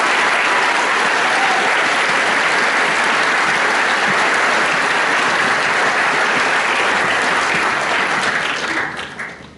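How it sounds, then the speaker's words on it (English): Sustained, loud applause fills a Year 13 graduation ceremony as students are honoured, a thick wash of clapping from a large audience that holds for nine seconds before tapering off. "big round of applause for them"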